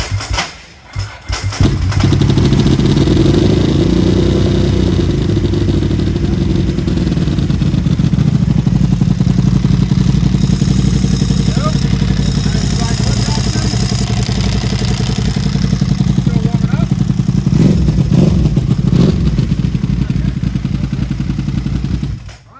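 Ducati 999R motorcycle with an aftermarket exhaust running in a shop, a loud, steady, rumbling engine note held for about twenty seconds before cutting off.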